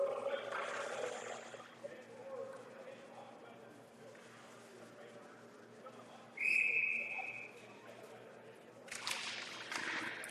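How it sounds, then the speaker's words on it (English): A referee's whistle gives one sharp, piercing blast in the middle of a U16 youth ice hockey game. Arena noise and a play-by-play commentator's voice run underneath, and crowd noise swells near the end. "On net, Patrica will cover that for the whistle."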